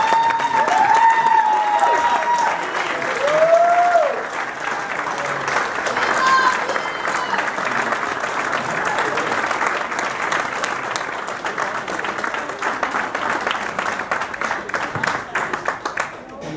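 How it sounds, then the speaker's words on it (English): Wedding guests give a sustained round of applause for the bride's parents, steady clapping filling the room for the whole stretch with a few voices talking and calling out over it. "Would you please stand so we can give you a round of applause?"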